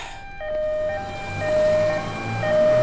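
An ambulance siren wails with alternating steady tones over a low rumbling traffic-like drone, fairly loud and sustained, with no voices.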